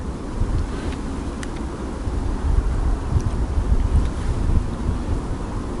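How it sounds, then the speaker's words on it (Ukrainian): Steady north wind roars along a frozen lake, a deep continuous rumble buffeting the microphone with occasional stronger gusts. "І вітер якраз такий вздовж озера північний."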